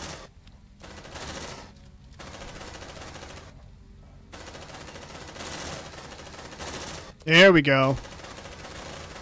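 Suppressive gunfire in the sci-fi game Aliens Dark Descent arrives as a loud, short burst near the end, after a stretch of intermittent background rumble and muffled bursts, with a voice speaking briefly.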